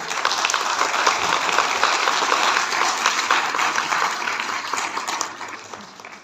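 An audience at a nutrition congress gives a loud, sustained round of applause for a speaker, dense clapping close and full at first, then thinning and fading slightly toward the end.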